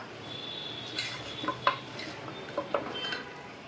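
Ginger garlic paste being stirred into cooked tomatoes in a pan, with a spoon scraping and clinking against the metal in a few soft, scattered strokes over a faint low sizzle, close and quiet.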